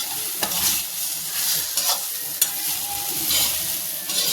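Whole okra fries in oil with a close, continuous sizzle, broken by a few sharp clicks and scrapes of a stirring spoon against the pan.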